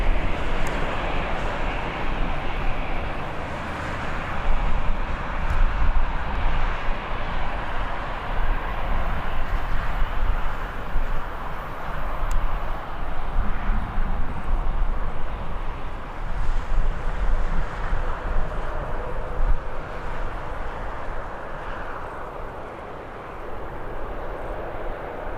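A jet taking off at Birmingham airport, a broad sustained engine roar with wind buffeting the microphone, loud and continuous throughout without anyone speaking.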